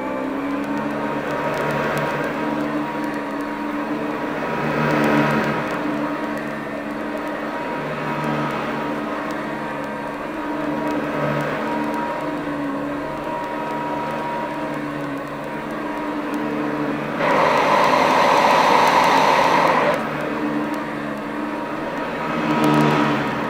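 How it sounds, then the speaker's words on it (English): A 1974 Eureka PowerTouch Cordaway upright vacuum cleaner, Model 2082, runs over a throw rug with a loud steady motor hum and whine that rises and falls as it is pushed back and forth, surging louder near the end. "put this down here and hopefully get a few decent views of it vacuuming"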